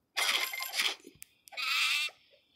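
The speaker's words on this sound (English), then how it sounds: "I see some sheep." Sheep in a video game give two close, clear, wavering bleats separated by a short pause, with a few faint clicks between them.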